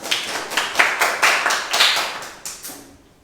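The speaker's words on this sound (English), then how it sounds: "let's go ahead and give Sarah another round of applause." Applause at an educational talk event, heard as a series of separate clapping bursts that fade over about three seconds, close and fairly loud, with no talk.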